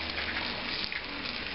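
An egg fries in a pan with cooked-down spinach, giving a close, steady crackling sizzle with dense popping and spitting and no voices.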